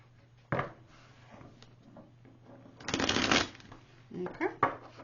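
Tarot cards being shuffled in a few separate bursts, with a short riffle early on, a longer, louder shuffle in the middle and quick flicks toward the end over a faint steady hum.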